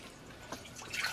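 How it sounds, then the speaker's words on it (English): Water pours into a cooking pot while making Eritrean ga'at, a soft trickle that rises to a brighter, stronger splash near the end, close by with no voices. "So we're gonna put water. Put water."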